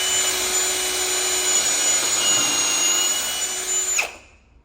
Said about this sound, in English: Then I just drill a hole through the board.